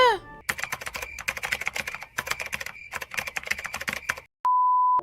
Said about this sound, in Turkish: Ya ama bu tuşlardan güzel ses çıkıyormuş ha.